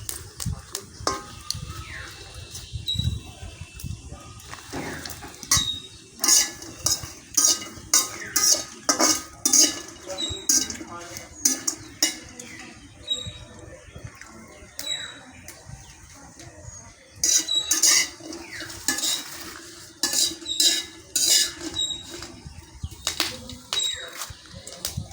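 A utensil scrapes and clinks repeatedly against a pan as rice is fried with chickpeas, dried and green chillies, ginger and garlic on a rainy day in a village, in irregular bursts of stirring.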